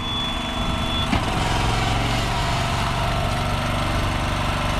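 A tractor idles steadily with a bale wrapper attached while a wrapped silage bale is unloaded; a brief clunk sounds early on over the continuous low engine drone.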